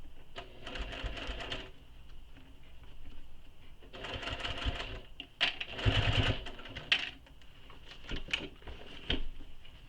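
A sewing machine stitches in short bursts of varying length, close and moderately loud, with clicks and handling knocks between runs.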